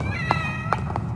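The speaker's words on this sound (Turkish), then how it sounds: "Aa kedi!" A cat in the video game The Evil Within: The Assignment meows three times in short, close bursts over a steady low background hum.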